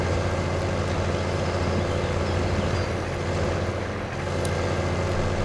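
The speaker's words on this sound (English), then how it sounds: "come on, you droning tractor" A Quadtrac tractor engine drones steadily and loudly while driving through mud, a continuous low rumble with no pauses.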